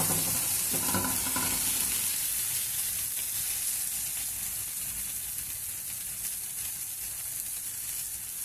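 Rava dosa made with sadda flour fries on a hot pan with a soft, continuous hiss and sizzle. The sound is fairly quiet and close, with a few light scraping touches early on and no speech.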